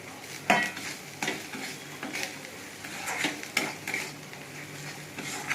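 Spices for a soyabean curry sautéing with green chilli in a pan, under a soft continuous sizzle, with a spatula scraping and knocking against the pan in irregular strokes.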